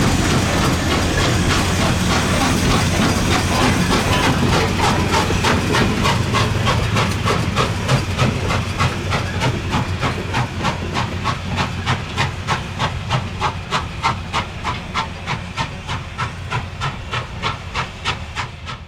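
N&W 611 steam locomotive working under steam, heavy hissing at first that gives way to a fast, regular chuffing exhaust beat, loud and steady throughout with no voices.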